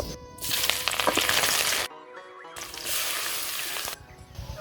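Eggs frying in a pan with chopped chillies, onion and garlic in a village kitchen, a steady close sizzle with brief quieter gaps.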